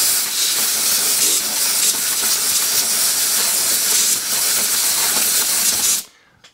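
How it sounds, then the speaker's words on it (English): An air compressor nozzle blasts a loud, continuous hiss of air at a lawnmower pull cord for about six seconds before cutting off abruptly. "I'll give it a little blast off with my air compressor."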